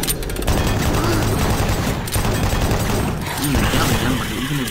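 Chaingun fire in the video game Doom 3, loud continuous rapid bursts with mechanical clatter and booming low end, a voice speaking over it.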